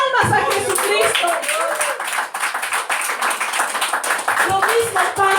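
Church congregation clapping together in a lively worship service, the claps steady and mixed with raised voices and talk throughout.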